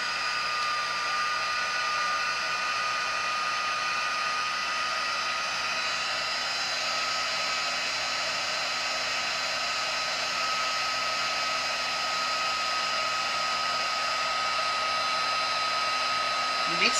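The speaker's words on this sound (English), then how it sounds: "when you use your heat tool" A handheld heat tool blows on ink on a handmade card, giving a constant, close whirring blast of air that runs unbroken and alone.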